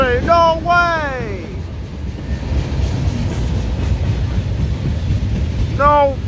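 A CSX freight train carrying Tropicana juice cars rolls past in Newburgh, New York, with a steady close rumble of wheels on rail, bracketed by loud horn blasts at the start and near the end.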